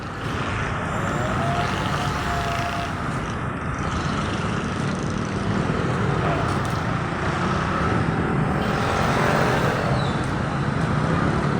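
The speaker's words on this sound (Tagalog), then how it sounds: "Kaya tingnan mo yung traffic." Continuous road traffic beside a market in the Philippines, a dense, steady roar of cars, trucks and buses passing close by with no letup.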